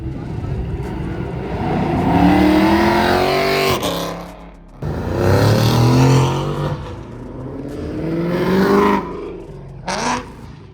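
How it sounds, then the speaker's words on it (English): Several wide-body cars, including Mustangs, accelerate away one after another, engines revving up loudly and fading, close by. "A lot of cars are starting to leave right now."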